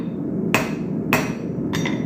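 Hand hammer striking bare-metal knife blade blanks at a forge, three sharp metallic blows spaced about half a second apart, each ringing briefly over a steady background hum.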